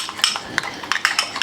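A utensil stirs yellow mustard into a sauce, giving a few light clinks and scrapes against the dish, close and clear with short pauses between strokes.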